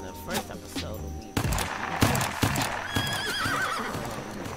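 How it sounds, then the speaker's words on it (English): Horse neighing and whinnying in a Wild West Roblox game, with clip-clop of hooves and sharp game sound effects around it, fairly close and loud with no talk. "let's call our horse"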